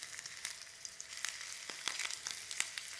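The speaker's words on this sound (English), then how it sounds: "Now on a medium heat, you're going to get your slices of ginger in first." Slices of ginger frying in oil in a clay pot over medium heat, giving a soft, steady sizzle with scattered small pops, quiet and close, with no talking.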